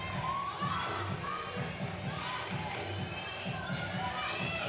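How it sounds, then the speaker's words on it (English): Girls' varsity gymnastics teammates cheer and shout at a meet, a lively crowd roar with children's yells and dull thuds running throughout. "Her teammates are really cheering her on."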